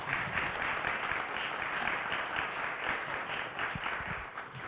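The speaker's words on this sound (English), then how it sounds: "please join me in offering them a round of applause" An audience at a university panel discussion on Gaza claps steadily for several seconds in a dense, even round of applause that fades slightly at the end.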